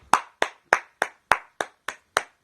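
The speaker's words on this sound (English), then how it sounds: "I'm going to give that a clap" A single person claps his hands eight times in a slow, even rhythm, each clap sharp, close and loud, with no other sound between them.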